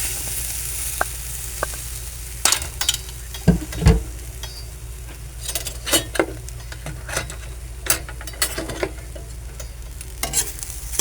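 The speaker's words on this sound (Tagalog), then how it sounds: "Sangag po natin yung ating nyog. Ayan, mainit na po yung ating kawali." Grated coconut dry-toasted in a hot kawali: steady soft sizzle with repeated scraping and stirring strokes against the pan, irregular close clicks and scrapes throughout.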